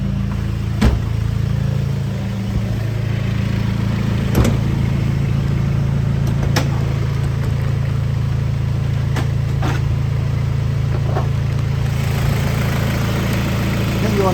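A 2002 Toyota Tiger four-door pickup with a 2L diesel engine and an added turbo idles steadily, a low constant hum close by, with a few brief clicks and knocks as someone talks over it.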